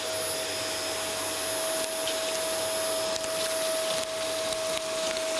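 Dyson DC24 upright vacuum cleaner running with its hose attached gives a steady, loud motor whine with a constant high tone over broadband airflow rush, plus occasional faint scraping and bumping.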